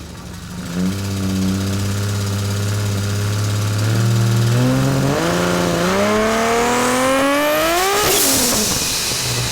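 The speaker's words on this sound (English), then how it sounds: "This is our dyno run on basically our street tune" A tuned Toyota Supra street build on a chassis dyno at a 650 kW setting goes from a loud, low idle to a long rev that climbs steadily in pitch and rises to a high, straining scream.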